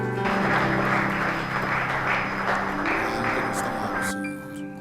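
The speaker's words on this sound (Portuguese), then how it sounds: "um forte aplauso" Congregation at a Papiamentu church service applauds, a dense burst of clapping over sustained keyboard chords that fades out toward the end.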